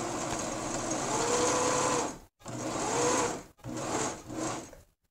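A Singer 9020 sewing machine motor driven by a foot pedal runs in three bursts separated by short stops, a close, loud mechanical whir with a rising and falling pitch.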